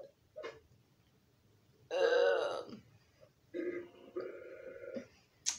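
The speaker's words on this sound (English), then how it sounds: "It sounds like a burp" A loud, drawn-out burp rises out of near silence, followed by a couple of shorter, lower belching sounds and a brief vocal blip at the end.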